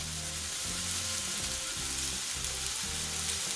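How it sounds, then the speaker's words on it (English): Mushrooms fry in a hot pan, giving a brief, close, even sizzle with a soft crackle throughout. "Then we're gonna go in with our mushrooms. Let's get them as many touching the bottom of the pan as possible."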